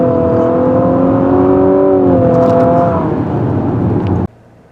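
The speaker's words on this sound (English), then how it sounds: "Like the sound the motor makes when we're hitting high RPM." A 2022 Infiniti QX55 engine revs high and steady with a strong whining drone, easing slightly before cutting off abruptly near the end.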